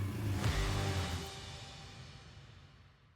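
A Yamaha TTR125 dirt bike engine that has just been started runs near at first, then its hum fades steadily away to quiet over a few seconds; nobody speaks.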